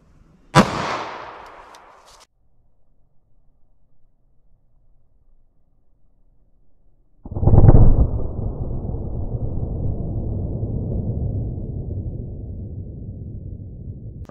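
A 9mm round fires from a 3.2 inch barrel into a ballistic gel block, making one sharp, loud crack that fades over about a second. After a long quiet gap comes a heavy rumbling burst that trails off slowly.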